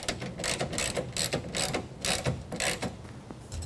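Half-inch ratchet tightening the rear clamps of a Gator SR1 Pro roll-up bed cover on a 2022 Toyota Tundra, rapid steady clicking of the pawl, close and continuous with no talk.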